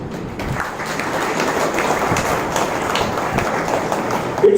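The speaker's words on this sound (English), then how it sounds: "big round of applause for all those prize winners today" Applause for school prize winners at a Saraswati Vidyalaya & Jr College event, a steady dense wash of clapping from a large crowd throughout, fairly loud and continuous.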